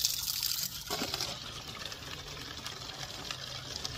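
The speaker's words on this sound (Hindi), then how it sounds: "पौधों में पानी दे देती हूँ" Water pours from a bottle onto potted plants on a rooftop, a soft, continuous trickle and splash heard alone and fairly faint, with a brief gush near the start.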